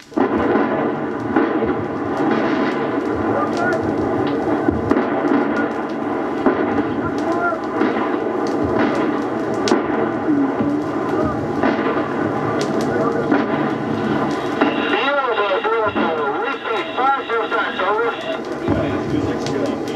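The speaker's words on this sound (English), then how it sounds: "when artillery arrives, when it drops down Charlie's throat, it's the most beautiful, ugly sound in the world" Artillery shells land on target during the Vietnam War, making a loud, continuous rumbling barrage of explosions that rolls on without pause and swells heavier near the end.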